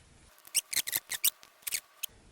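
Tape is peeled off the seal of a Casio PB-2000C pocket computer during disassembly, giving a series of short, crisp ripping and crackling bursts close up, about a dozen in quick irregular succession.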